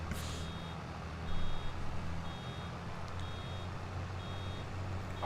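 Truck reversing alarm in Farming Simulator 22, repeated evenly spaced high beeps over a low engine drone, fairly quiet and with no voices.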